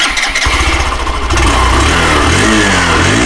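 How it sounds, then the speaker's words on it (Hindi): A 2022 Hero Super Splendor motorcycle starts and settles into a steady idle, its exhaust giving a smooth, close, continuous thrum with no talking. "इसके अलावा इंजन का साउंड भी मैं आप सभी को सुनाना चाहता हूँ"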